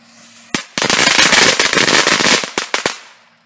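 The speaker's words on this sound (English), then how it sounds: "I got these little firecrackers in my hand, and I also got a lighter" Small handheld firecrackers going off outdoors in a fast, dense string of sharp loud pops lasting about two and a half seconds, followed by a few separate final bangs.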